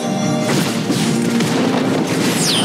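A turret collapses in the Wild Rift mobile game with a loud booming crash and rumbling debris, layered over continuous game music and effects.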